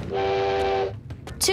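A loud, steady train horn blast sounds for under a second, followed by a brief spoken word and a short burst of noise.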